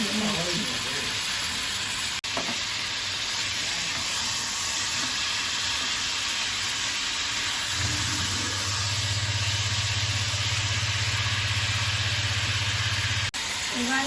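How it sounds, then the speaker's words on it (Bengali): Meat frying in white oil in a pan, a steady broadband sizzle running throughout, with a low rumbling hum joining partway through; no talking. "মাংসটাকে আগে একটু ভেজে নিচ্ছি, সাদা তেলে মাংসটাকে আগে একটু ভেজে নিচ্ছি"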